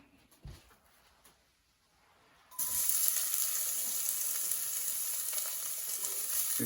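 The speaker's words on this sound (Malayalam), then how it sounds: "എണ്ണ ചൂടായി വന്നിട്ടുണ്ട്. ഇനി അതിലേക്ക് നമുക്ക് അരിഞ്ഞു വെച്ചിരിക്കുന്ന സവാള ചേർക്കാം." Chopped onions drop into hot oil in a pan and burst into a loud, steady sizzle that holds to the end, after a few quiet clicks and clatter at the start.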